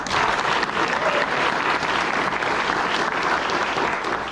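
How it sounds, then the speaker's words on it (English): Audience applause at a Navy frocking ceremony, a dense, steady wash of many hands clapping that stays loud and even from start to finish with no talking over it. "Senior Chief's parents, Mr. and Mrs. Willis, give them a round of applause."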